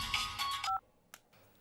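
Short electronic keypad tones from a telephone being dialed, a pair of clear beeps sounding in quick succession amid a busy dramatic scene, followed by near silence and a faint click.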